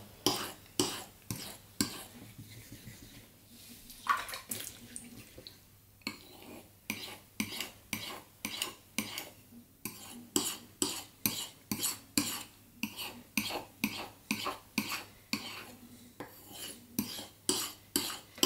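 A knife is drawn across a 10,000 grit whetstone in steady, rhythmic scraping strokes, roughly two per second. The strokes sound close and clear, with no talking over them.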